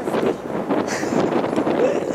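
Strong seaside wind buffets the microphone in uneven gusts during an aji (horse mackerel) fishing trip, a steady rushing roar close by with no talk over it.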